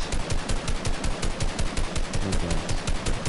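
Rapid automatic gunfire from a Fortnite match, a dense, loud stream of regular shots with little pause, close up and without talk.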